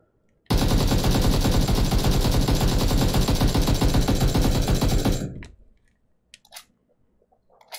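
AKM rifle in a video game firing one long, loud, continuous automatic burst of about five seconds that stops abruptly, followed by a few faint clicks and shell sounds.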